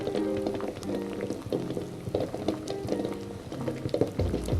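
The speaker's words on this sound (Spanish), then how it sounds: "Así que los ponemos a hervir" Eggs boiling in a pot of water on the stove, a steady low bubbling and gurgling that carries on throughout at moderate volume.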